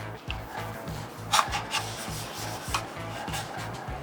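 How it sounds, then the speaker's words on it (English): A cloth rubs and wipes across a newly installed slip-on muffler on a Harley-Davidson Pan America, making soft, close, uneven scrubbing strokes with a few brief squeaks and no talking. "Make sure to always clean your muffler after installing it."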